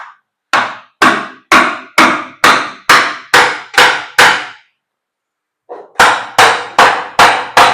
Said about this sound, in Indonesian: tinggal digetok aja dari sini nih pelan-pelan pakai palu aluminium ya